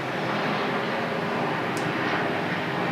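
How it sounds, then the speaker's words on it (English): Helicopter flying overhead outdoors, a loud, steady broadband engine and rotor roar that fills the whole stretch without letup. "Come on, helicopter."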